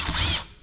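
A Torx bit backs a screw out of a Milwaukee M18 circular saw in one short, close burst of whirring and ratcheting that fades within a second.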